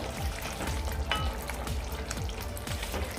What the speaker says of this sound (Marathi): आता हे फक्त आपण एकदा मिक्स करून घेऊया